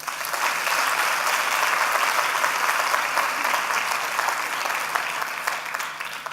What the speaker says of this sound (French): l'ensemble des candidats qui méritent encore une belle salve d'applaudissements